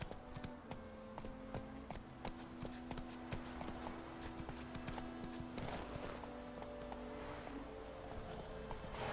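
Roach, a horse in The Witcher 3, gallops with rapid, evenly spaced hoof clops over a steady low background, close and clear, with no talk.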